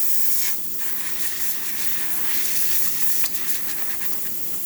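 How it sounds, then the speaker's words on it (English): The steam wand of a repaired Breville espresso machine hisses with strong pressure, a loud, continuous, close rush of steam with a brief dip near the start and no talking. "machine steam is working extremely well, having really good pressure coming out of the steam one."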